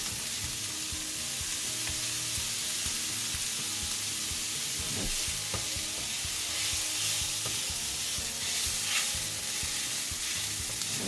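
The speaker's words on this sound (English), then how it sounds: "And we saute it till it's lightly browned." Onions sautéing in a pan for creamy Parmesan chicken, giving a steady, close, dense sizzle and frying hiss throughout, with a few faint stirring scrapes.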